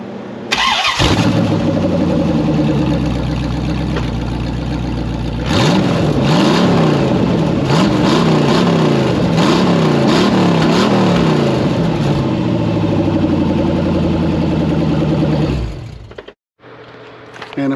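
A C4 Corvette with cut-off exhaust pipes aimed straight down fires up and revs hard, loud and close, with rising and falling blips through the middle before cutting off near the end.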